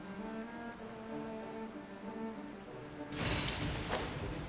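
Steady rain pours in a stormy scene in the video game Genshin Impact, and a loud thunderclap with crackling lightning bursts in near the end.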